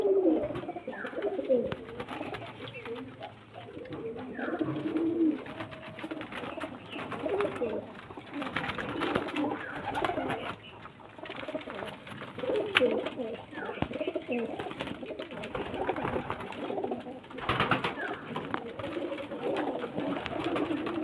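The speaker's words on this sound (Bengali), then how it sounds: "তো এগুলো সব নর পায়রা।" Several male pigeons in a breeder's loft coo repeatedly in low throaty rolls, overlapping throughout, with faint background voices now and then.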